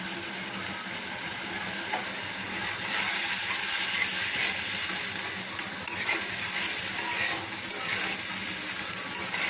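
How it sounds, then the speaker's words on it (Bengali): Bengali masala sizzles and crackles steadily as it is stir-fried in a pan, a dense, continuous frying hiss with occasional stirring scrapes. "আর মশলাটা আমি ভালো করে 2-4 মিনিট কষিয়ে নিব।"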